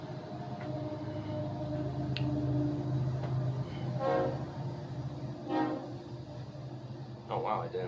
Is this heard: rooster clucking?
no